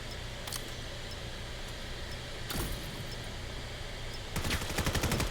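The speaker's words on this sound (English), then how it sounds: "And shots from CJ grabbing that last kill" In the VR shooter game Vail, a fast burst of rapid gunfire rattles out near the end, loud over a steady, dense bed of game noise.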